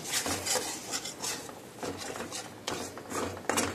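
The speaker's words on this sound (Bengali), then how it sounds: "এটা খুব ভালো করে মশলাটা কষিয়ে নিচ্ছি।" Turmeric, cumin, coriander and Kashmiri chili powders being stirred and fried in a pan, with a steady metallic scraping and clinking of a spoon against the pan in repeated strokes, close up, with no voices.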